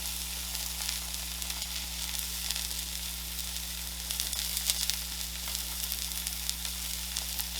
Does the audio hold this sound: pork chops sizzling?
yes